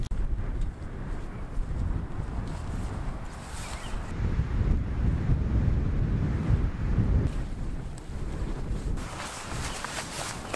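Cool wind blows across a mountainside at sunset during a multi-day bivouac, a steady rushing gust buffeting the microphone and swelling loud in the middle before easing back.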